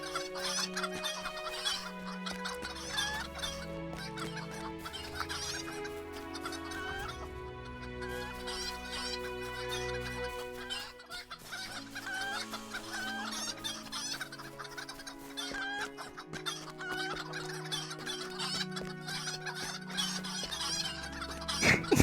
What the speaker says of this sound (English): it sounds like we've got a dozen chickens